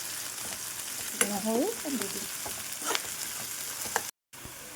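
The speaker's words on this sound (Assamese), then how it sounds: "অকণমান ৰঙচুৱা হ'লেকে পিঁয়াজখিনি ধুনীয়াকৈ ভাজি থাকিম" Onions sizzle and fry steadily in a pan for a sweet potato dish, a close, continuous crackle with a few stirring scrapes, while someone briefly speaks over it.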